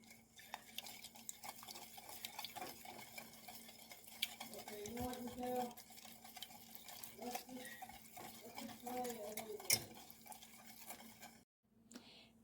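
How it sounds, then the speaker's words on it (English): Two eggs and a teaspoon of vanilla whisked together in a bowl, a busy run of quick scraping, clinking strokes against the bowl side that go on steadily for several seconds before stopping abruptly. "we're going to add 2 eggs and a teaspoon of vanilla. Then we're going to whisk all that"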